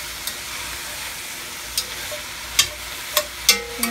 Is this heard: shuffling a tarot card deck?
no